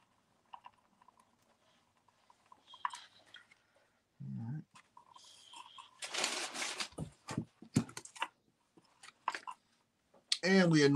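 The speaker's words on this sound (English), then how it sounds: "she's eating my shoes" Dog chewing on shoes indoors, giving intermittent close crunching, gnawing and rustling bursts spread over the stretch, with a short whine-like sound at the end and quiet gaps between.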